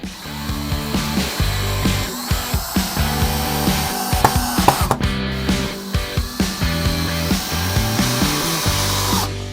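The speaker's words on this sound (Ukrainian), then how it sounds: "Можемо прикручувати. Цього візьмемо вже більш довгі самонарізи." A power screwdriver drives long self-tapping screws into a wooden board while building a levitating table, a loud close whirring motor in pulsing bursts with the screw grinding into the wood, no talking.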